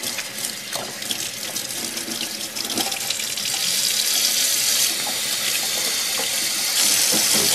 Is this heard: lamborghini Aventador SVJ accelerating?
no